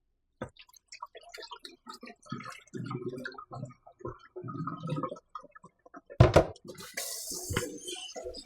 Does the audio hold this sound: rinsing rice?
yes